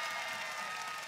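Studio audience on a Spanish-language variety show claps for a contestant, a brief, fairly faint burst of dense applause lasting about a second.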